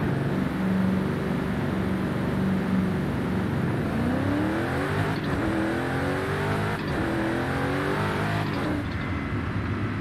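A tuned 1400-horsepower Mercedes-Benz X-Class widebody in Forza Horizon 5 drives with a continuous loud engine drone, the pitch sweeping up and down through gear changes and cornering, with no talking.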